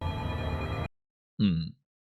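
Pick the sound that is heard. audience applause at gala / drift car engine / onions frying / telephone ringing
telephone ringing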